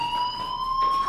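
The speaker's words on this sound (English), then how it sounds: "do you hear that fire alarm?" In Life Is Strange, a fire alarm sounds a steady, high electronic tone that is continuous and fairly loud throughout, with no voices over it.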